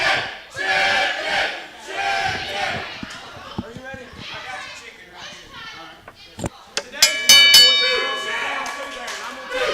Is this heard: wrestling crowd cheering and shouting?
yes